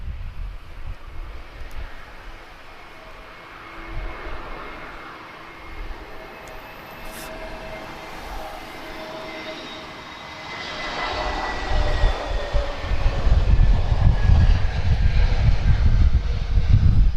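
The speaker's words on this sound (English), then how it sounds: "TP1558 just arriving from São Vicente. This is an A320neo." An Airbus A320neo jet airliner arrives at Lisbon Airport, a distant engine roar with wind noise that swells louder toward the end as the aircraft nears.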